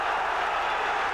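A boxing crowd roars Nigel Benn on as he attacks Anthony Logan, producing a steady, dense wash of cheering and applause with no clear breaks.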